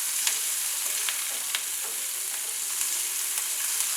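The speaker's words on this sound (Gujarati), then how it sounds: "એ કેપ્સિકમને આપણે આ તેલમાં સાતળી લઈશું।" Capsicum pieces sauté in hot oil with a bright, continuous sizzle. A utensil stirs the pan with light scraping clicks every so often.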